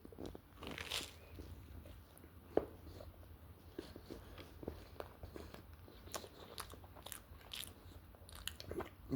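Someone biting into and chewing a bacon sandwich up close, soft crunchy bites and moist chewing at an uneven pace, fairly quiet, without speech.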